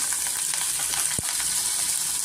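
Onions fry in a pan for potato sagu, giving a steady, close sizzle throughout with one brief soft knock in the middle.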